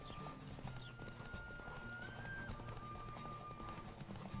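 Rhythmic clip-clop of hooves as a horse gallops at full speed in The Witcher 3, with a brief whinny early on, over a steady low game soundtrack.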